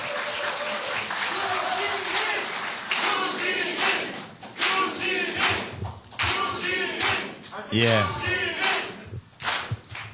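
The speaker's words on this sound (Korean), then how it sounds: "여러분 힘찬 격려의 박수로 맞으시기 바랍니다" Applause from party members at a Jeju rally greets the lone candidate for party leader as he comes to the podium. The clapping is dense and sustained, with cheers and voices shouting over it.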